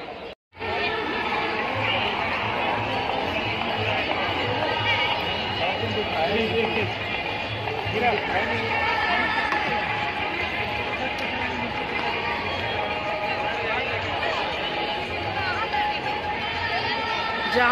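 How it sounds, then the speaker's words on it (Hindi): A large crowd mills about at a fair in Gandhi Maidan, Patna, making a dense, continuous babble of many voices and footsteps that surrounds the listener without a break. "यहाँ पे रोज के हिसाब से 4 गुना ज़्यादा भीड़ है।"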